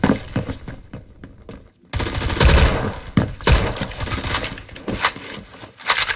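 Beowulf ECR rifle firing in the Roblox game Phantom Forces: loud, close bursts of heavy gunfire with sharp cracks, a brief silence, then sustained dense shooting with repeated punchy reports and clattering.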